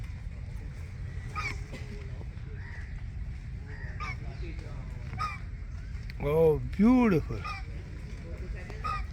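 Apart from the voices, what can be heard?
ducks quacking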